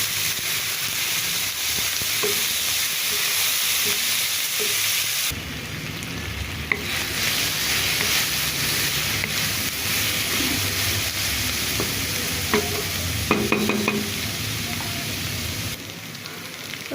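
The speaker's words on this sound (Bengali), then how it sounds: "এখানে আমি পেঁয়াজ কলি, গাজর, আলু, কাঁচামরিচ পেঁয়াজ দিয়ে ভাজি করলাম" Onion stalks, carrot, potato, green chili and onion frying in a pan: a steady sizzle close by with scraping stirs and occasional clinks of the spatula, no talking.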